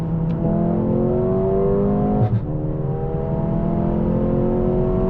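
A Mercedes CLA 35 AMG coupe's engine revs hard while accelerating in third gear, a steady loud rising drone with climbing harmonic tones, a brief dip near the middle and no talking.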